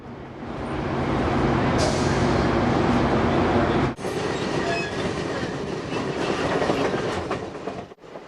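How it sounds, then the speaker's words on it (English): A passenger train moves along rails beside a platform, a loud continuous rumble with rhythmic wheel clatter and a brief sharp jolt midway, close by throughout. "Passengers wait to board a train on a platform."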